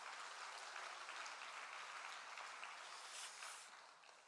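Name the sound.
church congregation applauding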